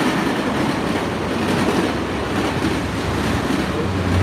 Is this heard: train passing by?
yes